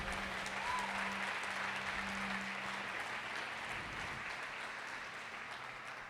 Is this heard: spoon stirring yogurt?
no